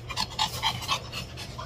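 A pregnant dog pants rapidly and steadily up close, the quick breaths rising and falling in an even rhythm with no talking.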